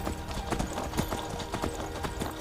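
Horse hooves clip-clop in Skyrim as a horse at the Solitude stables walks, giving a steady, close, even rhythm of hoof strikes over a soft ambient background.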